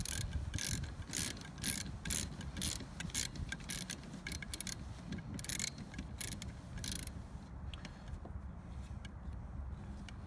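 A ratchet or wrench clicks in a steady, fast run of ticks while the nut on the rear wiper arm of a Dodge Caravan or Chrysler Town & Country is tightened. The mechanical clicking is close and fairly quiet, with no voices.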